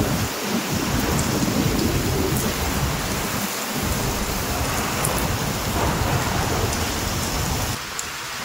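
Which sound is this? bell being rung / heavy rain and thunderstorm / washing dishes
heavy rain and thunderstorm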